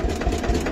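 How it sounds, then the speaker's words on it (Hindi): A John Deere tractor engine runs steadily in a farm field, a low even chugging heard close and moderately loud with no talk. "ये जॉन डीयर ट्रैक्टर यहाँ चल रहा है ना"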